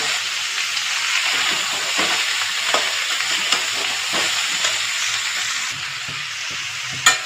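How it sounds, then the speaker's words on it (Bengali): Shredded cabbage frying in a pan for a mixed vegetable dish, a continuous close sizzle with periodic scraping stirs and light clatter throughout, no talking. "সমস্ত বাঁধাকপিগুলো দিয়ে দিয়েছি বন্ধুরা। দেখো ভালো করে নাড়াচাড়া করবো।"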